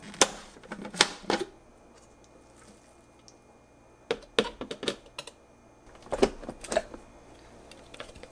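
A Braun FP3020 12-cup food processor chops onions in three short pulsed bursts, each a quick clattering whir separated by quiet pauses, close by with no talking.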